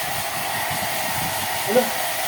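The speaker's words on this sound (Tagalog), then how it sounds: "Nagpa-blower ah sa mukha ah." A hair dryer blows on a dog's face with a steady, loud whooshing hiss, and a short quiet voice comes through near the end.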